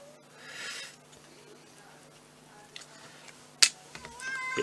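A pet male cat meowing for attention indoors: a few drawn-out, fairly loud cries separated by quieter stretches, heard at a little distance.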